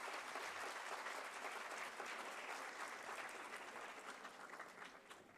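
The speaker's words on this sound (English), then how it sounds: "So great round of applause from my side for all of you." Applause from a symposium audience on law and peace, a steady dense wash of clapping that fills the hall and slowly fades toward the end.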